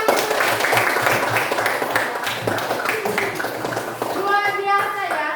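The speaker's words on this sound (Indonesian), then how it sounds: "Tepuk tangan." A classroom group claps for students who have just finished a presentation, a spread of close handclaps running alongside a teacher's voice and children's chatter.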